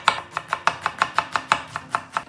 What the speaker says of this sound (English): Start by finely chopping some onions.